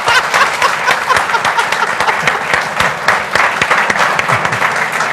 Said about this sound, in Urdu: یہ تالیاں آپ نے اپنی مرضی سے بجائی ہیں